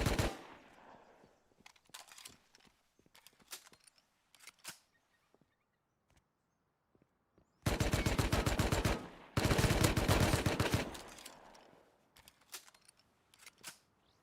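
Rapid automatic gunfire from a video game, with scattered single shots followed by two long, loud sustained bursts and a few trailing pops, with no talking.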